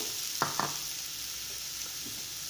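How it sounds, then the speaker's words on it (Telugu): Carrots fry in a pan with a soft, steady sizzle, broken early by two quick scraping strokes of a spatula and a couple of fainter stirs, close but quiet. "ఇదే ప్యాన్లో మనం క్యారెట్ వేసుకుందాం"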